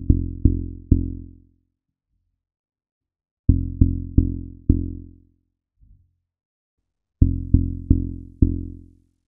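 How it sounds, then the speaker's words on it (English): Dry kick bass from a Boss RC505 loop station plays in three separated groups of four punchy, booming low hits, each hit decaying quickly, with silence between groups. "So what we do for this sound is basically dry kick."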